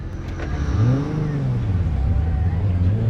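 A car accelerates in Cyberpunk 2077, its engine note rising and falling in a steady close drone that lasts throughout, with game sounds layered over it.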